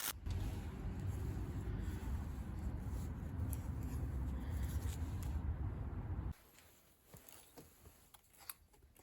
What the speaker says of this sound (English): and then I cut it out with my coping saw